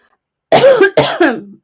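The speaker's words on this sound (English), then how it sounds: "Sorry, I started to cough now." A short burst of three harsh coughs in quick succession, close and loud, after a moment of silence.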